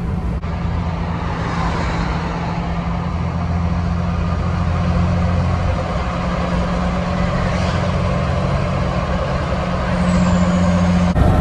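A tractor pulling a planter rolls along a highway off-ramp, a loud steady diesel drone with a low engine hum that holds for the whole stretch, swelling slightly near the end.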